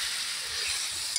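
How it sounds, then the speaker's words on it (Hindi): Pork meat fries in hot oil in a village-style pan, a dense continuous hiss of sizzling with a tiny clink at the end. "तेल सहित फ्राई करा दियो बर्तमान।"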